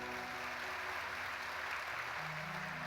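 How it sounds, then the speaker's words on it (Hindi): Applause from an audience at a Hindu religious discourse (Bhagavat Katha), a faint, even patter of clapping from a large crowd with a steady hum beneath, lasting a few seconds without a break. "एक बार जोरदार तालियां इनके लिए।"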